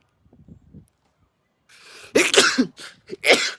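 After faint murmuring, a person lets out a loud, close sneeze followed by a couple of shorter sneezy bursts.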